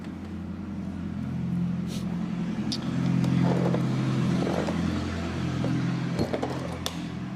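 A Porsche Carrera engine rumbles steadily at close range, a low constant drone with slight swells, accompanied by faint background clatter.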